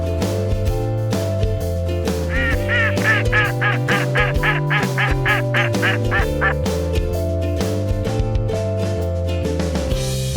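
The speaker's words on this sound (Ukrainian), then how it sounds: "Вірно, мої дорогесенькі, це каченя." A run of quick, nasal quacks, like a small duck, repeats in a steady series over cheerful background music.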